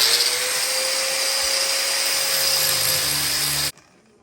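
A loud, steady high-pitched whine of an angle grinder with a flap disc grinding metal, running continuously, close up, then cutting off abruptly near the end.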